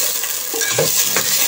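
Onions and tomatoes hit hot oil in a pan with a loud, close hiss and bubbling sizzle, along with a few soft stirring scrapes.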